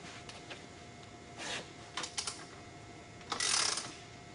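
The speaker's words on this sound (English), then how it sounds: "we're going to go ahead and tighten our flange bolts all the way" A ratchet tightening flange bolts on a motorcycle aftermarket exhaust, quiet mechanical clicking in a few short bursts, with a longer run of rapid clicks near the end, close with no talk.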